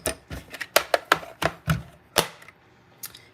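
A mini cut and emboss die-cutting machine gives a series of sharp, close clacks and ratchety clicks in an uneven rhythm, about ten distinct knocks over a few seconds, with no talking.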